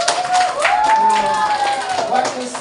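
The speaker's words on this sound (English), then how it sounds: "Give him a round of applause." A classroom of students claps for a classmate during a lesson, a brief burst of close, uneven clapping with voices and chatter mixed in.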